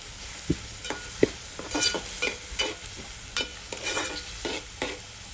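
Onion and tomato cook in a pan for a Konkani dried-fish curry, a soft sizzle under repeated light stirring and scraping of a spoon, quiet and close with no talk.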